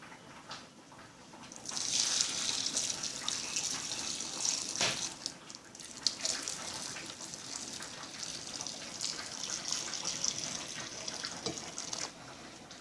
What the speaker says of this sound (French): je vais mettre l'eau que j'ai fait bouillir